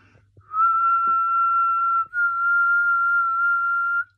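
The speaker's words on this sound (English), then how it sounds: "So you want to whistle and then reverse that breath so that it's an inward breath." A single person whistles one sustained note on an inward breath, drawing it gradually lower, with a brief break partway before the tone resumes; clear and close, with no talking.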